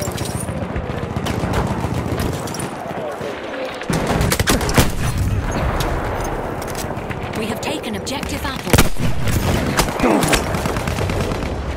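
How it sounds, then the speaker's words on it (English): Rapid machine gun fire in the Battlefield 1 video game, sustained rattling bursts with sharp louder cracks and booms, close and intense, with shouted voices mixed in. "Enemy machine gun over there!"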